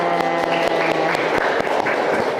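Classroom audience at a university teaching session claps together in a steady wash of applause lasting a couple of seconds, with a voice briefly heard at the start.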